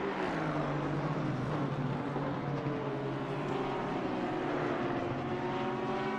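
A Porsche race car laps Silverstone in a racing game, its engine a steady, continuous drone with gliding pitch as it revs through corners, loud and unbroken throughout.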